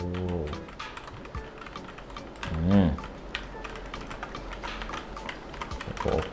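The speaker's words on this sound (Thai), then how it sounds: "การพิมพ์เนี่ยฟิลลิ่งเนี่ย จัดว่าดีมากๆเลยนะครับ" Rapid keystrokes on a compact Cooler Master CK721 mechanical keyboard, a soft, muted clatter running steadily throughout, with a voice talking over parts of it.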